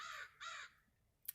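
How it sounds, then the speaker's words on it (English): Two loud crows caw close by in quick succession, each a harsh, rasping call, followed by a brief sharp chirp after a short pause. "crows"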